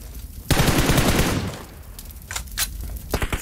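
Gunfire in PUBG Mobile: a loud, close burst of rapid automatic shots lasting about a second, followed by a few sharper separate shots and scattered game noise.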